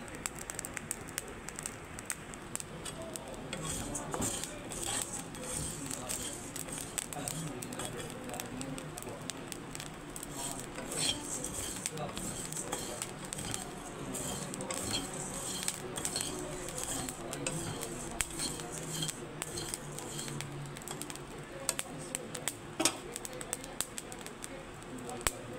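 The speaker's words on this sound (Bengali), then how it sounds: "এই দেখুন বন্ধুরা কেমন করে ভাজা হচ্ছে চাল।" Rice dry-roasting in a pan as an afternoon snack, a continuous dry crackling patter with scattered grain and utensil clicks throughout, and a voice speaking intermittently over it.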